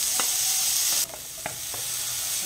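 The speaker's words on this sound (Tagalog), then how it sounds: "igisa na natin" Garlic, onion and ginger sauté in a pan with a steady hiss that drops abruptly partway through, followed by a softer sizzle and a few light utensil taps against the pan.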